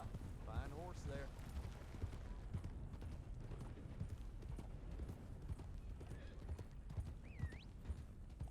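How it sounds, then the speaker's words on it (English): Steady hoof clip-clop of a horse in the video game Red Dead Redemption 2, with a couple of brief whinnies and ambient outdoor noise underneath, fairly quiet throughout. "Wow, fine horse there."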